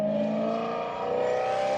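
A loud BMW M3 fitted with a supercharger revs hard close by, a steady roaring whine held with no talk over it.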